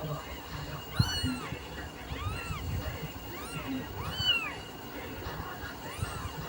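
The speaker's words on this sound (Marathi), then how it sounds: "हे बघा मांजरीचे पिल्ले" Several high, thin kitten mews repeat at irregular intervals over a low rumbling background, fairly close and clear, indoors, with a brief knock near the start.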